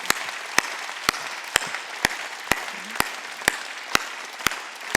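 A congregation at a Wednesday church service claps in slow unison, with about ten sharp, evenly spaced claps standing out over a low, steady crowd murmur.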